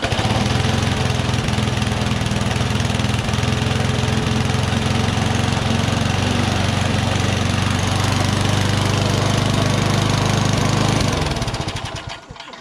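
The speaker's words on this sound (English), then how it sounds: "Engine runs. Sounds pretty good too." A push lawn mower engine on a Murray deck, freshly primed, runs loud and steady up close, a constant rumbling drone that cuts off and winds down near the end.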